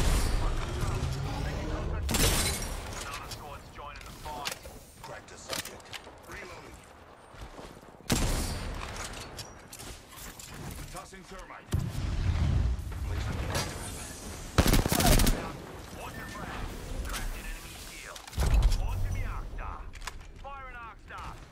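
Rapid gunfire from a video game in a chaotic, intense match, loud bursts and volleys recurring throughout with heavy explosive booms, while a player talks excitedly over the shooting.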